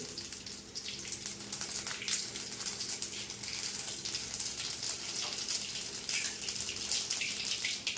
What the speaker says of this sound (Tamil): இப்போ எண்ணெய் காஞ்சாச்சு கடுகு போட்டாச்சு கடுகு பொறிஞ்சிட்ருக்குது